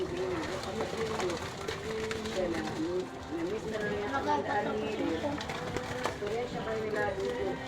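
Pigeons coo repeatedly in low, rolling bursts close by, with flapping and scuffling noises and steady background bustle throughout.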